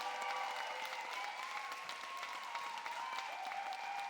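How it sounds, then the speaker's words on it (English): Audience applause fills a school cabaret hall at Ardingly College, a steady, dense wash of many hands clapping that stays faint and distant throughout, with no talk over it. "So let's give them a massive round of applause."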